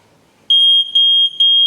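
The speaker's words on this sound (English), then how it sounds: "an alarm goes off audibly telling you that something is wrong" A battery-powered water leak detector alarm for a Gold RO reverse osmosis system starts suddenly after a quiet moment, sounding a loud, piercing high-pitched tone in three long pulses with brief dips between them.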